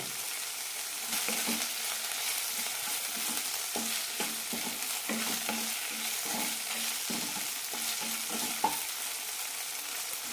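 Okra, or lady's finger, sautés in a pan with a steady close sizzle, punctuated by repeated soft scrapes and taps as it is stirred, no talking throughout.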